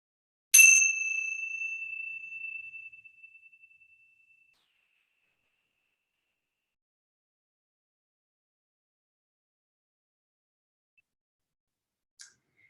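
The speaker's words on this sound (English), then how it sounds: "listen to the bell, and when you don't hear the sound anymore, raise your hand" A single clear strike of a meditation bell, used during a family mindfulness and yoga session, rings out alone and slowly fades to silence over a few seconds, followed by a faint click.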